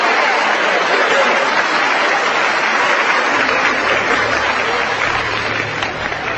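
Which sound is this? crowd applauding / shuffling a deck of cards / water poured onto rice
crowd applauding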